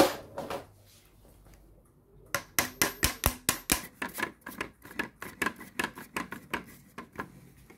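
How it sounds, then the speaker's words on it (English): A hammer taps the front axle of a converted Poundland ring toss toy car: after a quiet start comes a rapid run of about twenty sharp, close metallic taps, loud at first and then lighter and uneven. "I'll tap it with a hammer."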